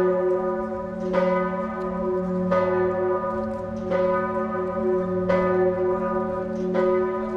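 A large church bell called Vondra tolls at a church consecration ceremony procession, sounding loud, close and resonant with rich sustained overtones; strikes land roughly every one and a half seconds, each swelling over the lingering hum.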